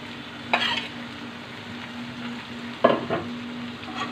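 Fish fries in a pan with tomato and onion as a soft sizzle under a faint steady hum, with two bursts of spatula stirring and scraping, nearby and without speech.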